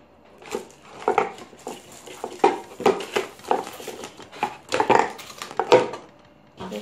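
Pieces of a new five-piece pan set clank and knock together as they are unpacked and handled, irregular metallic clatters and thumps close by, some louder, with brief quiet gaps between.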